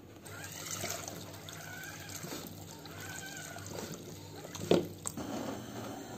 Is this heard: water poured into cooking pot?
yes